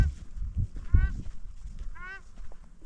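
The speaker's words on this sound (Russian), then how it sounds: "Это, наверное, реально гуси какие-то." Two harsh honking calls from geese, one early and one later, over low rumbling background noise and faint talking.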